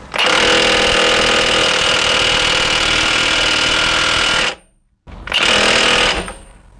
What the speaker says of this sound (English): now I can tighten up the axle nut